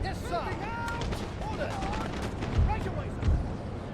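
Troops firing muskets in Napoleon: Total War, scattered volleys crackling at a distance with a couple of heavier thuds, set against a busy battlefield din.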